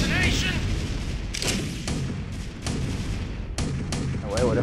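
Cannon shots in a video game, several sharp booms spaced irregularly over a steady rumble of battle noise, with a person talking throughout.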